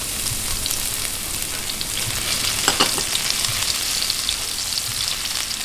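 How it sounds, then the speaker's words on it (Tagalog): Chopped garlic sizzles steadily in a hot pan while browning for chicken liver and gizzard stew, a dense continuous frying crackle with a brief louder stir or scrape near the middle. "Ayan, gisa-gisa lang hanggang maging light brown"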